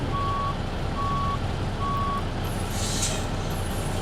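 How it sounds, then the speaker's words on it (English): A truck in American Truck Simulator backs up with three evenly spaced reversing beeps over a loud, steady idling engine rumble, then a brief hiss of air brakes near the end. "backing up and hooking up from inside the truck here."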